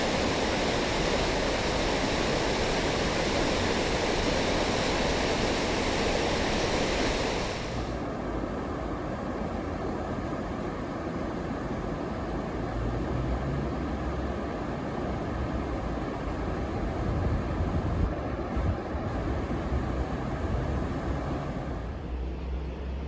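River water pours over the weir in Dumfries, a steady broad rushing hiss, loud and close at first, then softer and more distant for the rest, with no voices.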